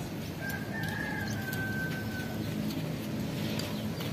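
Soft pigeon cooing sits within a steady, noisy outdoor background, with a faint whistling tone near the start.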